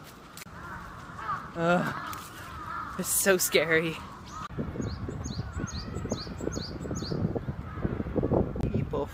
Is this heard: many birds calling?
yes